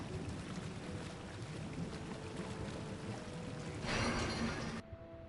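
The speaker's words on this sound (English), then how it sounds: "All I'm seeing is his aether, and it looks very water-like, and it sounds very water-like." A watery, rushing aether effect from the Final Fantasy XIV video game plays as a steady broadband wash, swelling louder near the end before cutting off abruptly.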